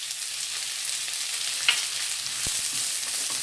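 Sliced onions frying in coconut oil for a Kerala-style spicy beef curry, a steady broadband sizzle close by, with a faint stir or clink near the middle and a short knock later.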